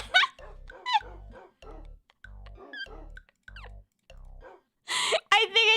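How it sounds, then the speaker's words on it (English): Playful dog-bark sound effects yap in short bursts over a thumping, evenly pulsed background music track, with a brief burst of voice near the end. "put some stupid-ass dog sounds in there"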